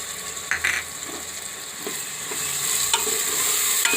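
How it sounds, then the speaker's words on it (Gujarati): Potatoes, onion and tomatoes fry in hot oil with a steady, soft sizzle, broken by a few scrapes as they are stirred. No one speaks. "હવે બટેટા અને ડુંગળી ઘડીક વાર આપણે તેલમાં સડવા દઈશું."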